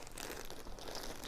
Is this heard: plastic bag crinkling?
yes